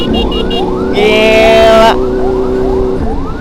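An ambulance siren wails loud and close in traffic while it is escorted by a large motorcycle, with repeating rising sweeps and a brief steady tone. A voice speaks briefly over it.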